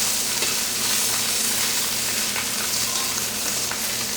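Stuffed pork tenderloin searing in a hot pan: a loud, continuous sizzle that stays steady throughout, with no talking.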